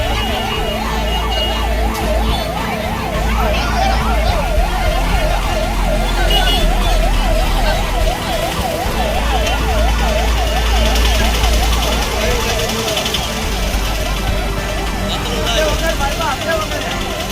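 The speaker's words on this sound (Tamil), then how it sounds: "ஆம்புலன்ஸ் மட்டும் வழி ரெடி பண்ணி கொடுக்குறாங்க." An ambulance siren wails in rhythmic, rapidly cycling tones through dense road traffic, loud and close with engine rumble beneath it throughout.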